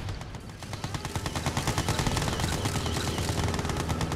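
Rapid continuous gunfire from units in the strategy game Yuri's Revenge, dense machine-gun bursts with overlapping shots building to a loud, sustained volley throughout.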